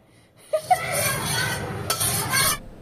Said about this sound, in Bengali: এখানে ঘিয়ে বাদামটা ভেজে তুলে নিচ্ছি।